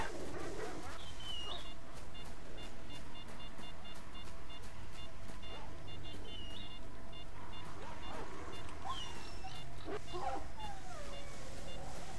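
A dog in the video game Lost Alpha barks and whimpers faintly under a constant loud background drone of game ambience, with scattered sharp effects.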